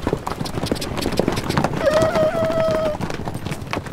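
Toy or play horse clip-clop hooves during a park adventure game, a steady rhythmic trotting patter through the clip with a brief whinny-like tonal cry in the middle, under background noise.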